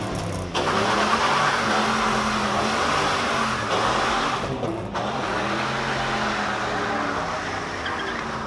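A car doing a burnout at a summer car meet in Västerås gives a loud sustained engine roar with shifting revs and tire noise across the whole stretch, with faint crowd sounds in the background.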